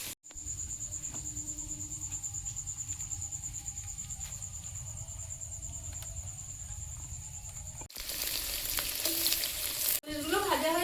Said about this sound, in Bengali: পনিরগুলো ভাজা হয়েছে, তুলে নেব